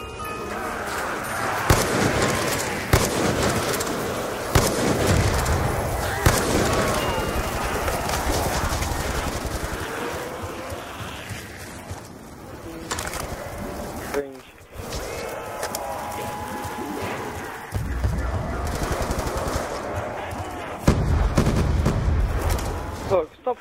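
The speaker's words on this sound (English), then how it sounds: "Shooting them now" Rapid bursts of gunfire cut through a busy, loud game soundscape as zombies are shot down in Black Ops 2 Zombies on Bus Depot, with several players talking over the shooting throughout.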